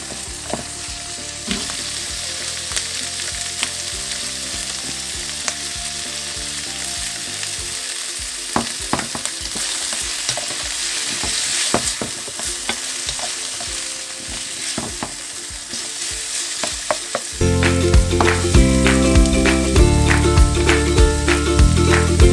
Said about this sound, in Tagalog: Halo-haloin lang po natin para hindi po sila masunog at pantay-pantay po yung pagkaluto.